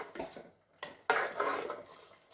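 Salt being stirred into an ambazhanga (hog plum) curry in a pot, heard as a few quiet metallic taps and scrapes of a spoon, then a longer, fuller stretch of stirring against the pot, close and fairly soft.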